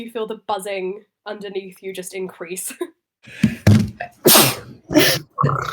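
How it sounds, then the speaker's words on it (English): A big sneeze bursts out loud and close after a stretch of conversational speech, followed by more sharp noisy bursts and a few words from another voice. "Oh, that was a big sneeze."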